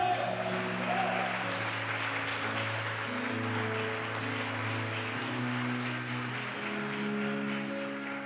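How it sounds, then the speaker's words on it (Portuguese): A church congregation applauds in a steady, sustained burst of clapping over soft sustained keyboard chords that continue underneath. "Dá um aplauso a Jesus."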